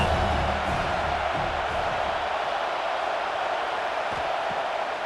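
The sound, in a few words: crowd cheering in College Football 26 video game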